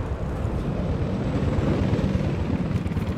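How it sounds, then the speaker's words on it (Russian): Enemy helicopter in the video game Battlefield 4, its rotor thumping steadily as a loud, continuous drone with no voices over it. "Обнаружена вражеская вертушка!"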